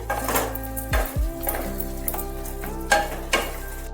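Fried spice powder being stirred into a fish oil chachchari curry in a pan, a loud sizzle with several scraping stirs and clanks of the spoon against the pan, no voices.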